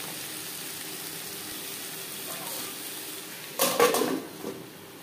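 Onion and tomato are stirred in a pan over low to medium flame, with a faint background hiss followed by a brief burst of close clattering utensil scrapes against the pan.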